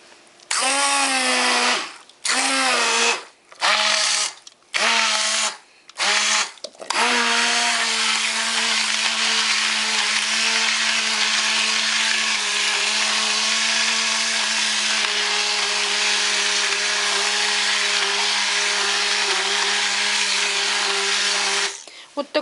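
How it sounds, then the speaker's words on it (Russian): A blender purees pumpkin, whirring loudly in short pulses, then running steadily for a long stretch with a high, grinding motor whine. "Сейчас я ее буду взбивать блендером."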